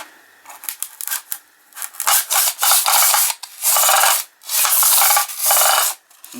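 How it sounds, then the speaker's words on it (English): A tinplate toy car pushed along with its gun-firing noise mechanism makes loud, close, rasping bursts that start short and quick, then stretch into longer grinding runs with brief gaps between them. "as you push the car along, supposedly that gun, it also makes a noise like a gun firing"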